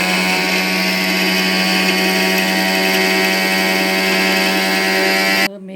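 Electric mixer grinder coarsely grinding seeds such as sesame and fenugreek, a loud steady motor whine with rattling grit running continuously, then cutting off abruptly near the end.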